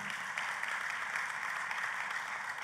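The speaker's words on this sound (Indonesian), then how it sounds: "Dan tepuk tangannya yang meriah buat Tuhan" A church congregation applauds in praise of God during a sermon, a steady, fairly faint patter of many hands with no break.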